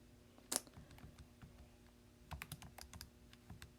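Typing on a computer keyboard gives a sharp single tap early, then a quick run of soft, close keystroke clicks near the end, faint in a quiet room.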